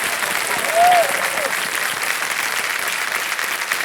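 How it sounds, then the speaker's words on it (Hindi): Studio audience applause on the Kaun Banega Crorepati set, a dense, even wash of clapping lasting the whole stretch, with a brief tonal whoop or cheer near the start. "एक बार फिर जोरदार तालियां बज जाएं इनके लिए"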